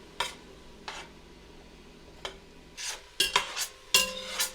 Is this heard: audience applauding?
no